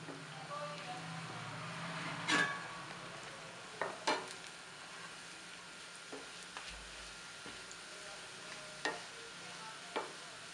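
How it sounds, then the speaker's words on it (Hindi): Bread pieces frying in oil in a nonstick pan over medium heat, a faint, steady sizzle broken by a few sharp clicks and utensil taps, no talking. "अब हम इन ब्रेड के टुकड़ों को तेल में फ्राई करेंगे।"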